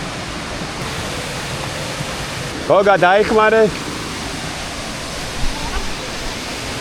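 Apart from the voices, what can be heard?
Oniore waterfall flowing down from a cliff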